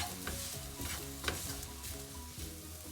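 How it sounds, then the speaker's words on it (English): Spices sautéing in a pan over a low flame for fish masala, giving a continuous soft sizzle with repeated stirring scrapes and a few sharper clinks, close and steady with no talking. "Now dropping in all the spices. Sauteing them on low flame for another 2 minutes."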